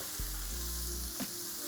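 Burger patties sizzle steadily on a hot cooking surface for a bacon cheeseburger, with a brief scrape and thump as one is flipped, close and alone without speech.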